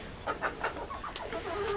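Chickens clucking inside a coop converted from an old tool shed, a few short close clucks in quick succession followed by a higher squawk, with steady background noise.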